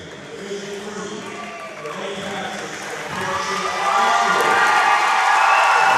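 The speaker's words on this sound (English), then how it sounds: "And the crowd showing their appreciation for the effort that the Berkshire Badgers put in this evening." Crowd at a high school game cheering and applauding for the Berkshire Badgers, a broad, steady roar that swells louder toward the end.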